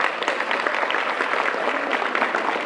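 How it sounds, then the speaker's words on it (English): An audience claps steadily in a dense, continuous burst of applause at a mayoral summer youth employment program launch event, the clapping filling the room with no talking over it. "Give yourselves a round of applause."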